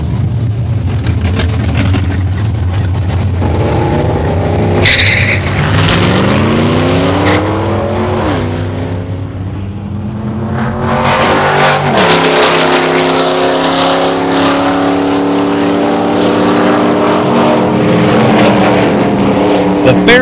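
A red Ford Fairlane races a Mustang 302 in a street-legal muscle car drag race, loud engines roaring and revving through gear changes with rising and falling pitch, steady and close throughout.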